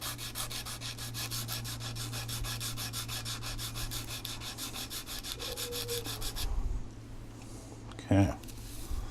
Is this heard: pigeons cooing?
no